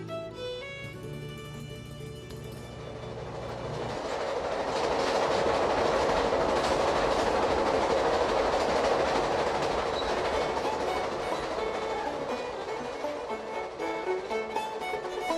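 Passenger train leaving New Orleans in the early morning on a long rail trip through the American South, with a steady rumble and rhythmic clickety-clack of wheels on track that swells and carries on throughout, alone without talk.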